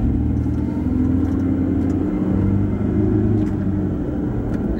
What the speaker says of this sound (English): I just peeled out a little bit right there.